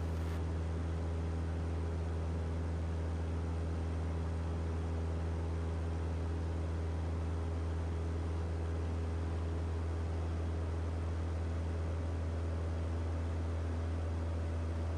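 Cessna 172 in flight just after takeoff, a constant loud engine and propeller drone with steady low hum and broad wind-like noise, unbroken throughout.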